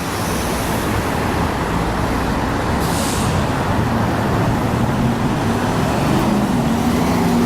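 A Q5 Limited city bus in Queens rumbles steadily in street traffic, with one short sharp air-brake hiss partway through.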